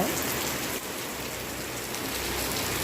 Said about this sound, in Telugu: ఇంత పెద్ద వర్షం పడుతుంది.